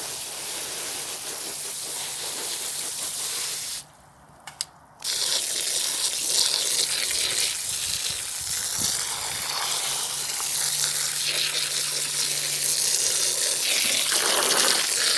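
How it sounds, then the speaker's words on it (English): A garden hose sprays water hard onto a container of carrots in a UK allotment. The spray gives a constant, close hiss that stops briefly for about a second, then resumes just as loud, with no talking. "I'm going to take this outside, blast it with a hose pipe"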